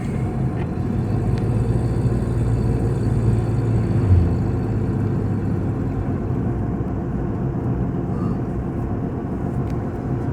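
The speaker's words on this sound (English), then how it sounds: "so we're in the truck and we are on the way to this customer's house" A truck on the road on a firewood delivery run, heard from inside as a steady low engine and road rumble that continues throughout, with no one speaking.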